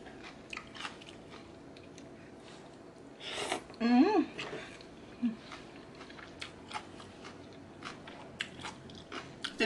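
Crunchy biting and chewing of spicy pounded cucumber salad, a few loud crisp bites in the middle amid smaller mouth sounds and faint background noise.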